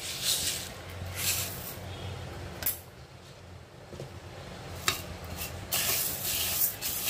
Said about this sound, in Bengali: আমি ডালটা কিন্তু প্রথমে কিন্তু ভেজে নেব, হালকা ব্রাউন করে ভেজে নেব আমি।